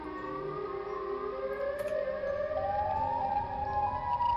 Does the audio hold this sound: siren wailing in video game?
yes